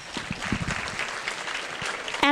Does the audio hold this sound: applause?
yes